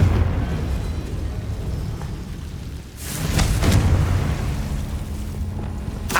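Bombarda and Confringo spell explosions in the Hogwarts Legacy video game, a loud rumbling blast that swells partway through over continuous booming, crackling game noise.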